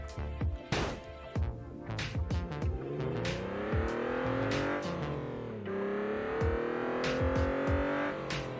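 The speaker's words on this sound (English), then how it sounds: "Let's take this to the racetrack and do, as somebody requested, a little bit of drifting." A front-wheel drive car in the BeamNG driving game drifts around a racetrack, its engine whining and rising steadily in pitch through long revs, with occasional sharp clunks and light tire noise.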